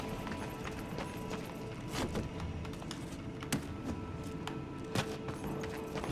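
Hooves clip-clop at a gallop in the video game Darksiders II, a fast, faint, rhythmic pattern of thuds broken by a few sharper impacts over a steady game-audio background.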